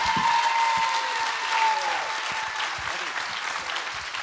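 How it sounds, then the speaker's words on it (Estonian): An audience breaks into steady applause to welcome a speaker at a closing service, a dense, even wash of clapping throughout with a faint tonal sound and brief voices underneath. "Teeme ühe suure aplausi."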